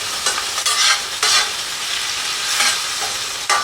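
Smashed beef burgers sizzle and crackle loudly in a hot pan, a steady bright frying hiss with a few sharper bursts as the patties caramelize, with no voices.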